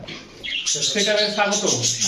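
Pigeons coo and murmur close by, with soft chirps and flutters, a low throaty warble rising through the clip.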